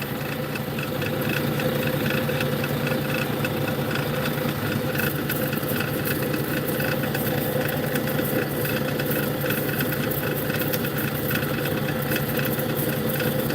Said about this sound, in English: we are going to use the diamond grinder for this part of the process